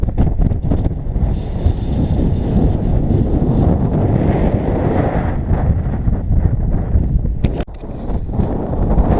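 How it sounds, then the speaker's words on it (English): Strong wind buffeting across a bleak open moor in the Scottish Highlands near Thurso, a continuous loud gusting roar rumbling close against the microphone with a few sharper blasts. "Windy, fresh."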